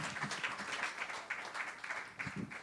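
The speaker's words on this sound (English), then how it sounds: "Give yourselves a round of applause." Audience at a live comedy podcast show in Los Angeles breaks into sustained clapping and cheering, a dense wash of hands that swells in bursts for a few seconds.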